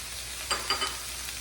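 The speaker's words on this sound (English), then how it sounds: "add the veggies that we already pre-cut into the rice" Chopped vegetables and tomatoes hit rice in a hot pan, a soft hiss with a few quick sizzling bursts over steady frying noise, close up and brief.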